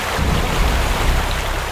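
Steady broadband rush of falling water from a waterfall, loud and unbroken, with no voices over it.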